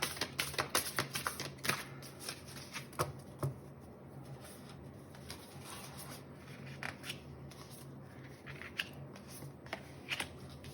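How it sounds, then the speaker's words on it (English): Tarot cards are shuffled up close, a run of quick crisp riffles and flicks. They come in bursts early on and then soften into lighter, scattered card taps in a quiet room. "Let me quickly shuffle the cards."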